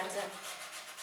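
A dry stiff-bristle brush rubs a wax-based gold metallic paste onto a shabby chic piece. It makes a soft, continuous, close scrubbing hiss lasting about a second.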